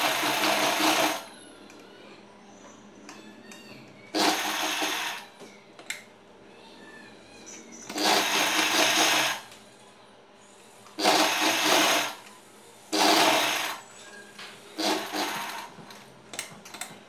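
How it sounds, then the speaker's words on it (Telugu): A sewing machine stitches the edges of a salwar back neck in about six loud, close bursts of steady whirring, each lasting a second or two and separated by short quiet pauses. "బ్యాక్ నెక్ని ముందుగా ఇలా చివరన అంచులు కుట్టుకోవాలి."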